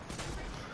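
Pistol gunfire in a small-town gun-game shooter, a dense burst of loud, close shots packed into under a second, with no clear gaps between them.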